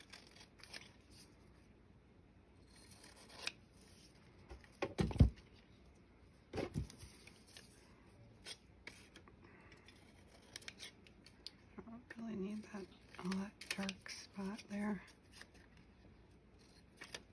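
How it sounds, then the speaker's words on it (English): Scissors snip through paper to cut out a background during a card-making craft session, with scattered cuts, a couple of louder snips, and a busier run of cutting near the end; a voice is faintly present. "What I think I'll do is cut out the background"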